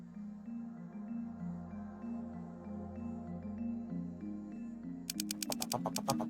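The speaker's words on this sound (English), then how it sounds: "Again, I love that typewriter noise." Quick clacking keystrokes of a typewriter-style text effect in the visual novel game Steins;Gate arrive in a rapid burst of about a dozen taps near the end, over soft humming background music.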